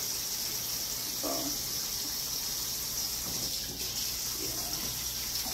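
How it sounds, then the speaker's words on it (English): Tap water runs steadily over thawed catfish nuggets being rinsed in a sink, a constant close hiss with faint clinks and handling sounds, and no talking. "I had them soaking over here in some vinegar water while they were thawing out. So now I'm just rinsing them off."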